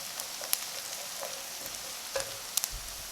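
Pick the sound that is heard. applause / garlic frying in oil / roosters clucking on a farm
garlic frying in oil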